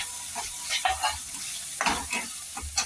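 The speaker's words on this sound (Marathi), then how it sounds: "बारीक चिरलेला कांदा आणि टमाटर पण टाकून घ्यायचं आपल्याला मिक्स करायचे ते पण चांगले परतून घेऊ" Chopped onion and tomato sautéing in a pan with turmeric, misal masala and garam masala, a soft continuous sizzle with occasional stirring scrapes, close and fairly quiet.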